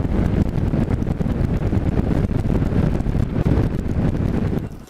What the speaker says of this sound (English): It's actually a pretty windy day. The wind gusts are coming up to about 20 miles an hour.